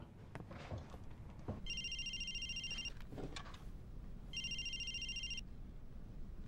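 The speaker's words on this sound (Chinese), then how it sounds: "给佳佳打个电话" A telephone rings while a call is being placed: two separate bursts of bright electronic ringing, each lasting about a second, rising clearly over a quiet room background with no talking.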